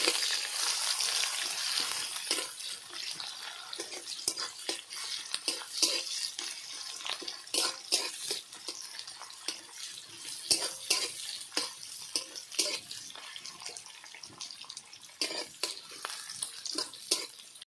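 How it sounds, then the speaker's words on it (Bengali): Onions frying in a pan: a steady, bright crackling sizzle broken by frequent scraping stirs, close up, with no voices. "পেঁয়াজ কাটা দিয়ে দিলাম পেঁয়াজটা ভেজে নিতে হবে"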